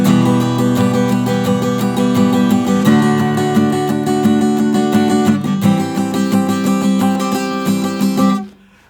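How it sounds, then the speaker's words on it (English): Acoustic guitar strums steady down-up semiquavers through the chorus of a song, a loud, dense, continuous rhythm with chord changes, played alone before stopping abruptly near the end. "the strumming pattern just down, up, down, up, down, up, down, up, just playing semi-quavers all the way through it"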